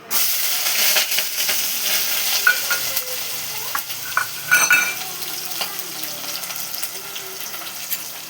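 Chili, curry leaves and spices frying in oil, a continuous close sizzle and crackle with stirring scrapes and occasional spatters, a voice faintly present underneath.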